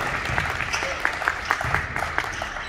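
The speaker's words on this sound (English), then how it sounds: "So clap it up for these guys" Spectators clap at a high school basketball game in a gym, a fairly loud, steady patter of applause with distinct claps standing out through the short burst.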